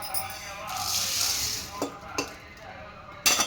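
Puliyogare powder ingredients roasting and being stirred in a pan over a low flame, giving a soft sizzle with scraping strokes and a few sharp clinks of a utensil against the pan, while a person talks over it.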